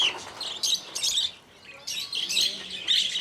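Many small birds chirp and tweet in an aviary at the Paris flower and bird market, with bright overlapping calls in repeated bursts, close and fairly loud, without any talking.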